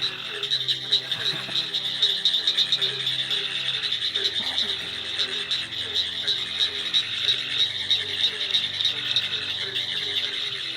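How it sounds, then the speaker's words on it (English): A pine woods tree frog's rapid, rattling call repeats in quick machine-gun bursts, loud and close, over a dense background chorus of other frogs and insects in the North Carolina Sandhills. "Sounds kind of like a frog machine gun. That's the pine woods tree frog."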